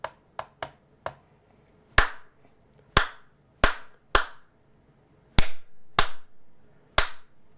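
Sharp single hand claps aimed at an original 1984 Clapper sound switch, about a dozen crisp, close claps spaced irregularly, some with a short ringing tail, alone in a quiet room.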